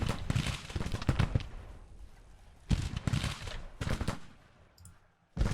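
Musket volleys and cannon fire in the Grand Tactician Civil War battle game come as ragged crackling bursts. They swell and fade in waves with quiet gaps between them.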